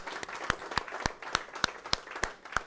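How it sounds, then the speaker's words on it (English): At a seminar, sharp, evenly spaced claps ring out in a quick regular beat, each one crisp and close, with softer scattered applause underneath. "let's give it up for Jason Harris for putting on this event"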